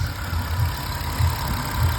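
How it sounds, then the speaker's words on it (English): A 2007–2011 Jeep Wrangler engine idling steadily right after a valve cover gasket replacement, a low, even rumble with slight periodic pulses, close and alone with no talk. "Engine sounding nice."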